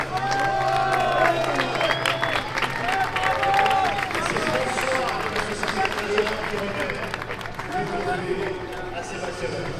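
Crowd applause and cheering for the champions at a motorsport super show at the Charade circuit, a dense, steady wash of clapping and crowd noise with voices mixed in throughout.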